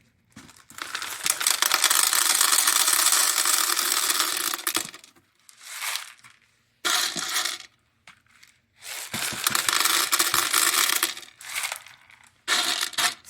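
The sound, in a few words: clay beads poured into a terrarium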